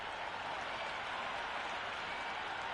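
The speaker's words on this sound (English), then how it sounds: "The crowd are making a heck of a lot of noise even before the first ball's been bowled." A cricket stadium crowd in the Cricket 26 video game, Sri Lanka versus Zimbabwe, roars steadily before the first ball, a faint, continuous wash of cheering and clapping without break.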